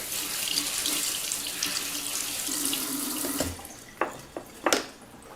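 Tap water runs into a sink as strawberries and blueberries are rinsed, a steady close splashing stream that then cuts off, leaving a few light clatters and drips. No one speaks.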